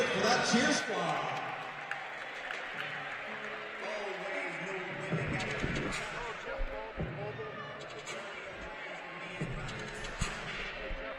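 A crowd applauds the cheer squad at a college men's basketball game in an indoor arena. Broad, steady clapping and crowd noise sit under an announcer's voice, with occasional ball bounces and thuds.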